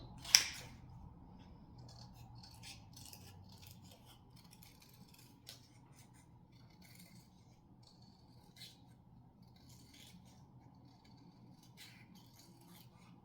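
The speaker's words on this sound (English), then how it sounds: "So I'm just going to cut these out." Scissors cut out small craft pieces for mini snowman snow globes. The snipping is quiet and close, with one sharper cut at the start and scattered, irregular snips after it. The room is otherwise still.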